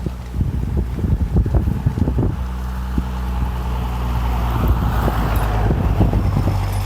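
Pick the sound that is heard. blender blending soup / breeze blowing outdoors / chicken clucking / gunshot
breeze blowing outdoors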